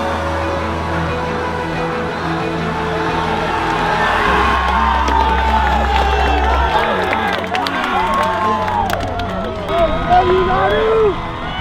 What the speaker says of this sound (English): the crowd rises to their feet. They're chanting, Nanu,